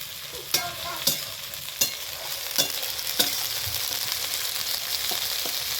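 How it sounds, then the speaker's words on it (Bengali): Ground spice paste with onion and garlic fries in oil in a pan for a country chicken curry. A constant close sizzle runs under regular spoon taps roughly every half second, which fade into steady frying. "এখন এই বেটে নেওয়া মশলাটাকে ভালোভাবে কিন্তু আমি ফ্রাই করে নেব তেলের মধ্যে"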